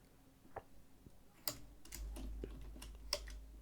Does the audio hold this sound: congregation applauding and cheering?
no